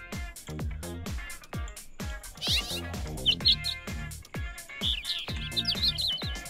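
Bright, repeated sparrow chirps and tweets in a Roblox game ring out over a bouncy musical backing with plucked bass notes, steady and fairly loud.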